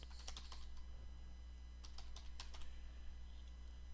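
Computer keyboard keys clatter in two quick bursts of close, crisp typing as a username and password are entered, with a quiet pause between them and no talking.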